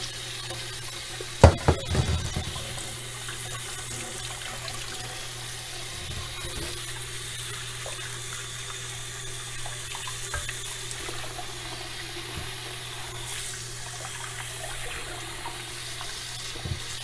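Tap water runs steadily into a kitchen sink while red snapper fish is washed, a soft continuous hiss with a brief louder splash and clatter near the start.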